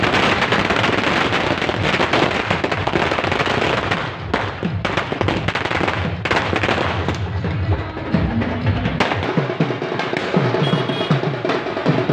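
Firecrackers bursting at a BJP election victory celebration: a dense, loud barrage of sharp crackling pops rattles on continuously, with a few heavier bangs and drum-like thumps near the end.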